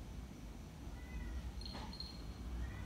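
A plump house cat gives a single short, faint meow partway through, otherwise quiet room background with no talking.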